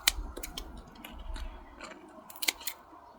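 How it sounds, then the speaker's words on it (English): Scissors or snips cut into a plant leaf in a greenhouse, making several quick close crisp snips and clicks with a faint low rumble behind them and no talk. "so again, cut into the leaf"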